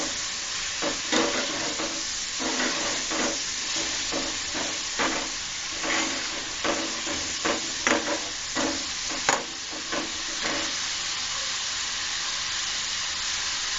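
Coriander leaves being stirred into a frying masala for an egg and tomato bhuna, with a steady close sizzle under repeated rhythmic spatula scrapes against the pan.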